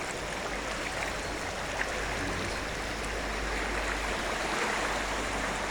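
A creek runs high after a tropical storm at a culvert under a railway line in Walnutport, Pennsylvania, giving a steady, full rush of flowing water that continues unbroken and close by.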